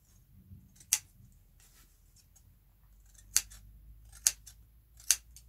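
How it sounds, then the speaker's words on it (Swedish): Scissors snip into the seam allowances of a corset, four crisp isolated cuts spaced irregularly over a quiet, near-silent room. "Det betyder att vi ska klippa i sömsmålen."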